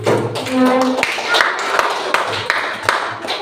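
A school class claps in a loose rhythm of sharp, separate hand claps, with voices talking over the start.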